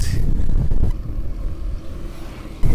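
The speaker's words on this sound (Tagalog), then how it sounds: "Ang lakas ng hangin." Heavy wind buffets the microphone in low rumbling gusts, loud and close, easing briefly before another strong blast at the end.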